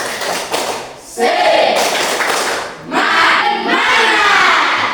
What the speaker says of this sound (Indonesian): Kita tepuk semangat. Oke, tepuk semangat.